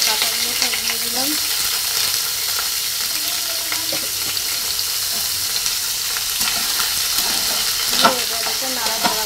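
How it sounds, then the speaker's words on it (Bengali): Red chillies and leaves fry in hot oil in a pan, crackling and sizzling loudly up close while a utensil stirs and scrapes them in irregular strokes, with faint background voices. "এটাকে নাড়াচাড়া করবো, নাড়াচাড়া করবো।"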